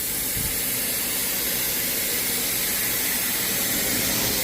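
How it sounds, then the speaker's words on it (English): A carpet cleaning machine vents steam in a loud, continuous broadband hiss that holds steady throughout, with no voices. "I'm just trying to release some steam right now."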